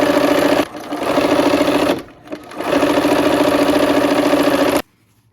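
Sewing machine stitching a scant quarter-inch seam, a loud rapid mechanical whir that runs, pauses briefly twice, resumes, then stops abruptly near the end.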